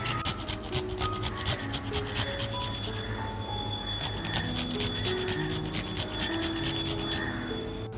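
Raw green mango is grated in a kitchen for a spicy rawas fish fry, a close, steady rhythmic rasping with quick repeated strokes sounding continuously throughout.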